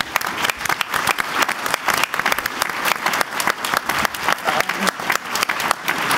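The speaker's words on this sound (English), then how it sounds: "I think your team needs a round of applause." Sustained audience applause at a conference closing session, dense and loud, with distinct sharp claps rising out of the steady roar for several seconds.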